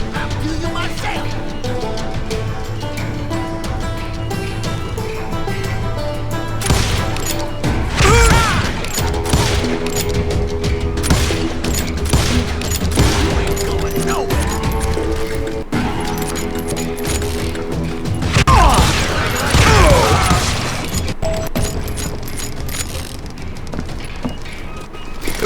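Gunfire in the Call of Juarez Gunslinger video game, repeated bursts of shots and ricochets over a musical score, with mechanical clicks and brief hoofbeat-like clatter; loud and busy throughout.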